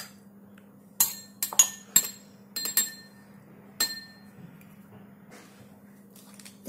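Chopped strawberry pieces dropped into a serving glass, giving a series of bright glassy clinks and taps in irregular bursts, close and clear over a quiet background hum.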